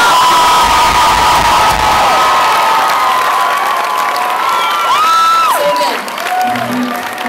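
A concert crowd in Seattle roars with sustained cheering, whoops and applause for a supporting act at a show; the dense, loud noise carries on throughout with a few high whistle-like tones rising above it.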